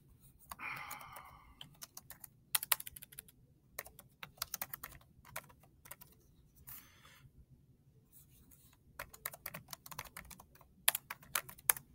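Someone types data into a spreadsheet on a computer keyboard, with quiet bursts of rapid key clicks and scattered single taps broken by pauses, close up and alone.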